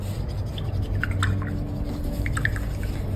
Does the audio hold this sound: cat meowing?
no